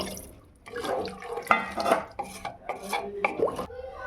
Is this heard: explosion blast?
no